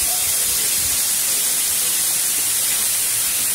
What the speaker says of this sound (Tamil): இப்போ தக்காளி நமக்கு நல்லா சாஃப்டாக வதங்கணும், அது வரையும் நம்ம வதக்கிக்கலாம்